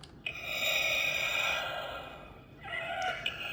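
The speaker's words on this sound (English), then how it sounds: "it's got that really gaspy breathing that we hear from Darth Vader when either his mask is broken" Gaspy, labored Darth Vader breathing effect from a 2022 Black Series helmet with the mask detached, a long strained inhale followed by a second shorter breath, close and alone with no talking.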